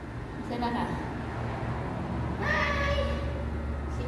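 A large stray cat in Saudi Arabia meows outdoors over a constant low traffic rumble. A short meow comes first, then a longer, louder rising meow.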